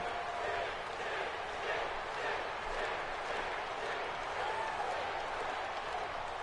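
A wrestling arena crowd in WWE 2K18 roars and cheers steadily at moderate volume as a dense, continuous wash of noise with no clear breaks.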